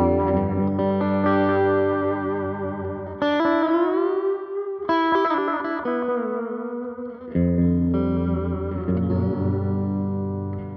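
Electric guitar run through a NUX analog-style delay pedal, notes repeating with darkened, rolled-off highs and a washy trailing echo, sustained phrases and chords playing continuously and fairly loud with no talking.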